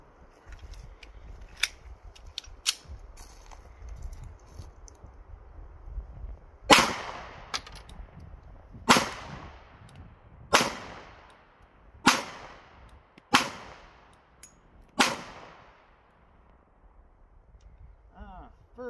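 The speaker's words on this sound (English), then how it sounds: "we're out here today with the first shots with the PSA mags" Seven sharp Glock 48 pistol shots fired with PSA magazines and 124 grain Norma ammunition, spaced irregularly about two seconds apart, each a loud crack with a short echoing decay over quieter background sound.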